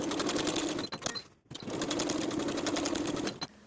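Sewing machine edge stitching binding along a bag pocket fold, a steady rapid whirring hum with one brief pause midway, close and clear with no talking.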